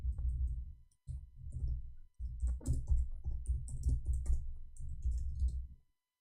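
Steady keyboard typing with clustered key clicks and short pauses, fairly close and clear, no voices.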